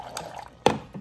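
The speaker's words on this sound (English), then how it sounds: "So, this is the water dispenser. So, I can" Water dispensing from a Samsung refrigerator's door dispenser, short splashy drips and a sharp liquid splat into a cup, close and brief.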